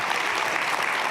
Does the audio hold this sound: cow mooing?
no